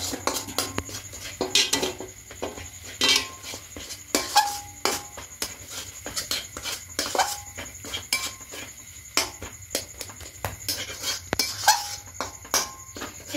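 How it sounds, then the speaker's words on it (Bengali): Spoon clanking against a metal pot while stirring palm fruit milk pitha batter with semolina, repeated irregular scraping knocks and sharp metallic clinks, close and fairly quiet with no talk. "এবার খুব ভালো করে এটাকে মিশিয়ে নেব।"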